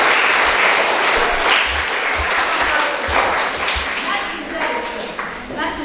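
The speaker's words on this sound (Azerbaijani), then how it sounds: "Mən alqış istəyirəm o qəhrəmanlara" An audience applauds heroes at a memorial event for a martyred soldier, a sustained wash of clapping with some sharper individual claps, while a voice speaks over it.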